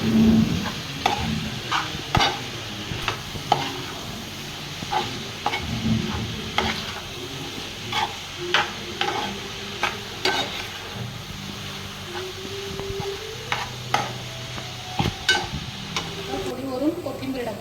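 Wild mushroom curry sizzles and fries in a pan as a spoon stirs and scrapes through it in repeated sharp clicks and knocks, close and steady, with no talking.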